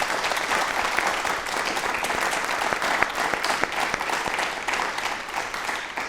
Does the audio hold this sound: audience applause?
yes